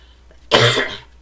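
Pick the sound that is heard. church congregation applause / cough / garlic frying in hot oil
cough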